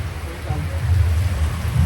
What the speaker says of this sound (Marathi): चालता चालता खूप जोरात पाऊस चालू झालाय